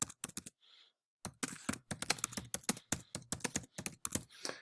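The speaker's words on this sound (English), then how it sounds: "So here we can start typing." Rapid computer keyboard typing in uneven bursts of close, crisp key clicks, with a brief pause near the start before a long steady run of keystrokes.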